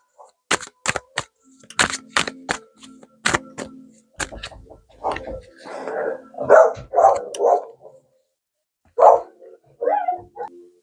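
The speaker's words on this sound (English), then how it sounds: "Yeah, dogs barking." Dogs bark in sharp, loud bursts, several quick barks at first, then a looser string of yelps and barks with short gaps between them.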